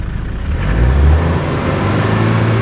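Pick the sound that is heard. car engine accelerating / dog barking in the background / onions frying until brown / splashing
car engine accelerating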